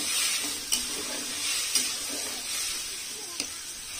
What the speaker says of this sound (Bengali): মশলাটা একটু কষিয়ে নিচ্ছি আগে ভালো করে, একটু আদা বাটা দিয়েছি